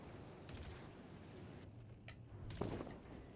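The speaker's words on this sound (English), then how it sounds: "I'm hearing some gunshots come out of here" Bursts of distant gunfire crackle over a steady background din in the naval video game World of Warships Legends, with a few sharper reports near the end.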